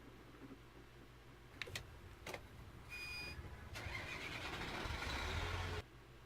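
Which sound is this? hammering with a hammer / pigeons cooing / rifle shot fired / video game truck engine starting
video game truck engine starting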